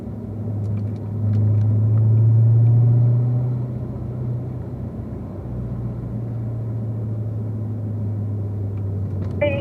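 A car engine on a driving track hums low inside the cabin, swells and rises as power is applied, then settles back to a steady drone, with no talking.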